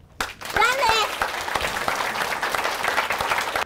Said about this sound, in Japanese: 拍手に書き消されてしまった